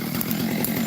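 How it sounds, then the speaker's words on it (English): A chainsaw cuts trees during farm land clearing, its engine a loud, continuous, close buzzing drone with steady rasping teeth and no pauses. "I can't stay one place because the chainsaw, the lumberjack is working the machine."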